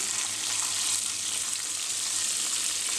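Chicken pieces fry crisply in hot oil for KFC-style fried chicken, a steady, dense bubbling sizzle filling the whole stretch without any talking.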